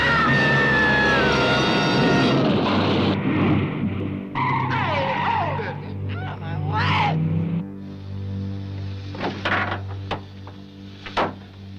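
A car in a late-1970s horror film skids with failed brakes and goes over an edge: screeching tires and engine roar mix with frantic shouting, then fade into scattered impacts and clatter.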